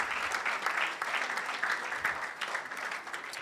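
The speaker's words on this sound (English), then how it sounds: "You see, this kind of epileptic applause, me, I don't like." Steady audience applause at a national science and maths quiz championship launch, a dense mid-distance wash of clapping that holds throughout with faint voices beneath.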